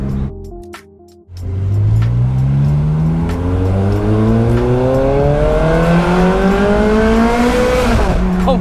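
Ferrari 430 Scuderia fitted with a new 16M exhaust accelerates hard, its loud engine note climbing steadily through gears with sharp upshift breaks, close and dominant after a brief quiet start.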